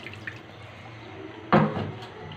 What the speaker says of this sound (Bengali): এখন জলটা দিয়ে দিলাম।